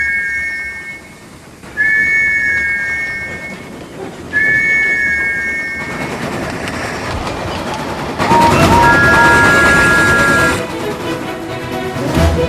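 Henry, a steam engine, runs down the line at express speed: loud, steady rumbling and clattering with repeated whistle toots over the rolling noise.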